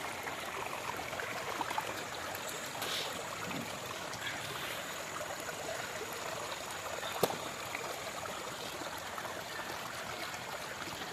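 Water flows along a small canal that is being cleared of debris, a continuous low trickle and gurgle at moderate volume, with one sharp faint knock partway through and no talk.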